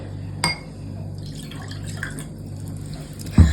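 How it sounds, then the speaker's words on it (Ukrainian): Water pours into a clear container with soft trickling and a couple of small glassy clinks over a steady low room hum, faint and close. "Беремо прозору ємкість, наливаємо воду"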